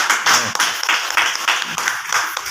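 An audience claps in a short burst at a business meeting, with loud, dense rounds of hand-claps swelling and easing in a steady rhythm, close and with no one speaking.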